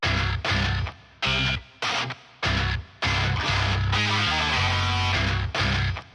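Heavy distorted djent-style electric guitar and bass play together in chugging, palm-muted bursts separated by abrupt stops, then a longer sustained riff with shifting notes.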